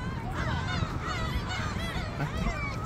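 Wild ducks honk at a beach in Hampyeong-gun, a flurry of nasal calls overlapping in quick bursts at moderate distance over a steady wash of ambient noise.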